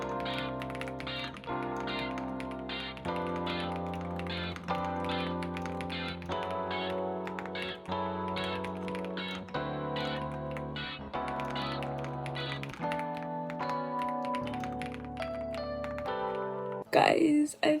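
Brisk typing on a computer keyboard while writing a draft, with light clicks tapping along steadily under soft, sustained background music, briefly louder near the end.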